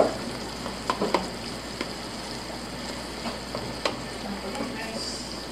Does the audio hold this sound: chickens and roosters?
no